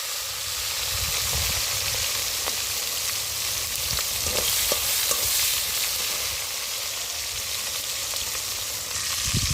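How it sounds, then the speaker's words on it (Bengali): Chopped tomatoes hitting hot oil give a dense, continuous sizzle and hiss, loud and close, with scattered small pops and crackles throughout. "দেখো তেলের মধ্যে টমেটোগুলো দিয়ে দিলাম।"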